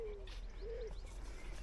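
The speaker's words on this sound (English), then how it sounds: "Like it is birdsong." Faint bird calls, a couple of soft whistled notes, drift over a quiet outdoor background.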